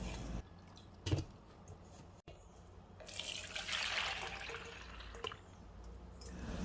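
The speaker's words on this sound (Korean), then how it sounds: "콩을 체에 부어서 남은 물의 양을 한번 재어" Overnight-soaked, swollen soybeans and their soaking water pour into a sieve, a close, continuous wet splashing and trickling rush with brief louder gushes.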